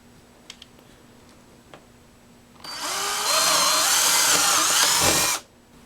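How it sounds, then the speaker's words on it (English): After a few quiet seconds and faint taps, a power drill with a 3/16 bit whirs loudly and steadily for about three seconds drilling straight down into a board, then cuts off. "Use a 3/16 bit and drill straight down."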